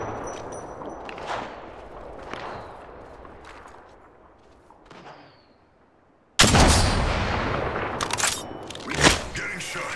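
Gunfire in the Apex Legends battle royale shooter, Season 4, with sharp shots scattered under a talking voice, then a sudden loud burst of sustained firing and impacts in the second half.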